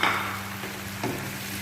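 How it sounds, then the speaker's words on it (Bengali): Chopped tomatoes frying in a pan with onion, ginger and garlic for a dhaba-style egg masala, giving a steady close sizzle with a couple of soft stirring scrapes and no voices. "এটাই কিছুক্ষণ ভাজবো ভালোভাবে।"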